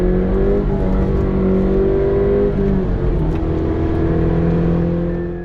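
A Subaru BRZ TS on the Mosport Grand Prix race track at Canadian Tire Motorsports Park holds a loud, continuous engine drone from inside the car, its pitch rising and falling gently as it accelerates and shifts.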